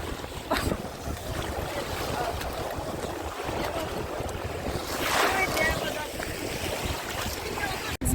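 Rough, stormy Black Sea surf at an Odesa beach near Langeron and Otrada, with waves washing and gusting wind buffeting the microphone in a steady, loud roar that swells slightly mid-way.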